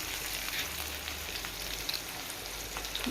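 Cumin and fennel seeds sizzle in hot oil while a pumpkin stir-fry is being prepared, a faint, steady crackling hiss with small pops, heard close and alone.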